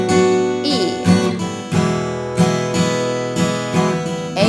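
An acoustic guitar strums the bridge chords of a song in a down-down-up-down-up pattern, with several chord changes played close and clear and no speech.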